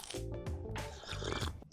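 Close crunching bites and chewing of a McDonald's quarter pounder with cheese, several soft wet crunches in quick succession, alone and fairly quiet.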